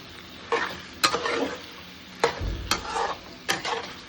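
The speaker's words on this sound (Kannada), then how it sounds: "ಸಣ್ಣೂರಿಲಿ ಎಣ್ಣೆಲೆ ಬೇಯುತ್ತೆ." Potato and capsicum fry in oil in a pan, a soft sizzle under repeated scraping stirs of a utensil, with sharp clinks at irregular intervals, close and alone.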